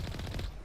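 Rapid bursts of gunfire from the Mass Effect 1 Legendary Edition video game, a tight repeating rhythm of shots at steady loudness that trails off near the end.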